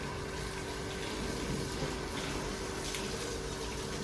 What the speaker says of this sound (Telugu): క్లాత్తో తొడవలేక పైప్తో పట్టేస్తున్నాడు కార్ని